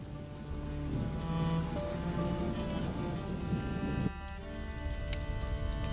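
Steady rain falls in the video game A Plague Tale: Innocence, a dense continuous hiss over a low rumble, with a faint musical drone underneath and a brief shift in tone near the end.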